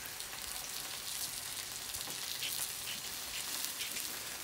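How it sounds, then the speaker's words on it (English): Teriyaki chicken skewers sizzle on a griddle with a steady, close hiss and fine crackle that holds level and unbroken. "while that's still griddling"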